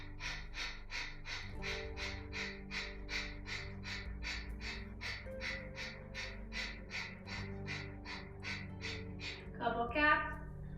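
Rapid rhythmic yoga kriya breathing, about twenty-five sharp forceful exhales in a steady fast pulse, close and loud, ending with a longer breath and a brief voice.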